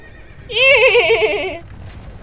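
A horse in Dark Souls II gives one loud, close whinny that rises sharply, quavers with a shaky vibrato for about a second and then trails off, over a faint game ambience.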